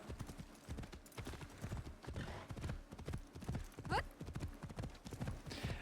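Rhythmic horse hoofbeats at a steady trot with a brief neigh, from the video game Assassin's Creed Shadows, fairly quiet and continuous, with faint game voices in the background.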